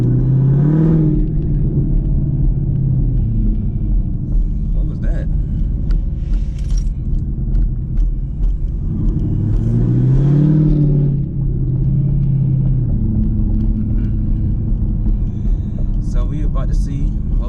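A tuned 2021 Chevrolet Camaro SS engine rumbles close by and rises in two revving surges over a deep idle, with people talking over it.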